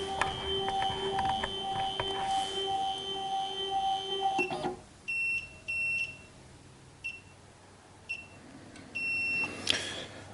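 An SEC E9 key cutting machine hums steadily and then gives a series of short, clear electronic beeps, spaced out over several seconds, with a brief whirring burst near the end.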